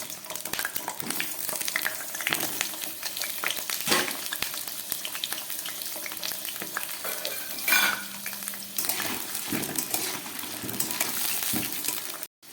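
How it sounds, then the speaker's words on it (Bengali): Potato pieces fry in mustard oil in a wok, giving a loud, steady close-up sizzle with occasional stirring clicks throughout and no talking. "এবার এর মধ্যে কয়েক টুকরো আলু আমি ভেজে নেব।"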